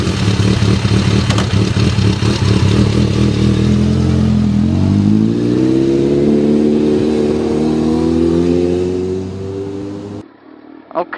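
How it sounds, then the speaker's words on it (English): A motorcycle ridden after its tires were filled with Ride-On sealant roars loudly and close, the engine pitch rising steadily through the gears before cutting off near the end. "you need to take the bike for a ride about 4 to 6 miles after you do the initial filling of the Ride-On"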